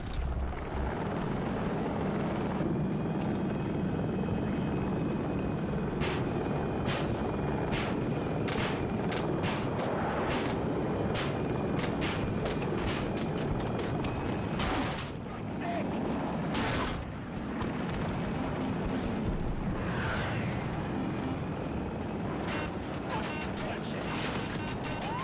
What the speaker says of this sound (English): Yeah, let's go with Chopper right now.